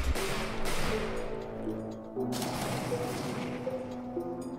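Booming cannon blasts and rumbling explosions from the video game REDCON, loud and dense, with a sustained tonal hum running underneath.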